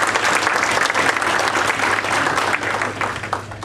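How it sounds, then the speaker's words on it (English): An audience at an event for Rep. Jim Cantwell gives the helpers a loud, full round of steady clapping that carries through the whole stretch, tapering slightly at the end. "I want to have a big round of applause for all of them."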